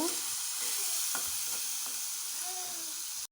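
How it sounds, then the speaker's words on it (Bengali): Dried shrimp frying in a pan, giving a steady soft hiss of sizzling oil with a few light scrapes and taps of a utensil, close but fairly quiet, with no talking. "এখন চিংড়ি মাছের শুটকিগুলো দিয়ে দিলাম"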